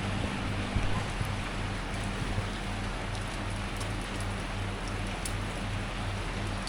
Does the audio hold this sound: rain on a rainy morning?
yes